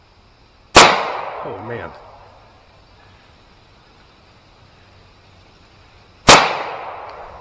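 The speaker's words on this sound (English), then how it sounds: "Shoot it again. I want to see the gun action in your hand." Two loud handgun shots fired outdoors in the woods, each a sharp crack with a long echoing tail, several seconds apart; someone speaks briefly between them.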